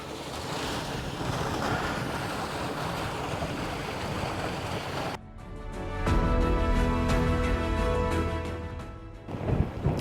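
Water rushes fast down an Inca stone channel at the Tipon ruins near Cusco, Peru, a continuous loud turbulent roar with wind buffeting the microphone and no speech.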